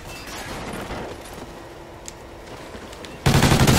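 Video game gunfire from a multiplayer shooter with shotguns, a steady stream of shots through most of the clip, then a much louder close burst of blasts at the very end.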